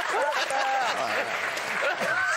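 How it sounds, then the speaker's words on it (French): A studio audience at a French TV talk show applauds steadily throughout, a broad wash of clapping partly masked by people talking over it. "Applaudissements pour lui"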